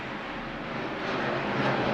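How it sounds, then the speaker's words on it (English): A jet aircraft roars overhead, a loud broad rumbling wash that swells steadily louder, with no speech over it. "there is a jet."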